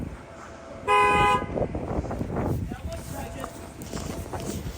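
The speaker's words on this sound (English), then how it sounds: "Oh, there it is. The bus is here." A Chicago city bus pulls up at a stop amid street traffic, a short loud horn toot cutting through the rumble, with people talking nearby.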